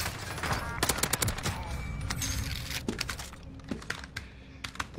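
Gunfire in the video game Call of Duty as rapid bursts of sharp shots, mixed with keyboard clatter and some low game noise, fairly close and in clusters separated by short gaps.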